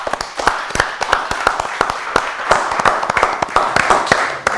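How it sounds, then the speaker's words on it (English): Audience applause for the winning team at a Ramadan quiz show, a dense, steady patter of many hands clapping, close and loud throughout. "Give a big claps to them."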